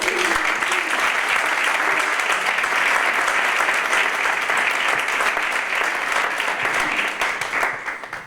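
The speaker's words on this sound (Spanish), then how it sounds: "yo voy a pedir un aplauso para Ana" Conference audience applauding speaker Ana after her talk on rehabilitation, a sustained, full roar of many hands clapping that holds steady for several seconds before tapering off.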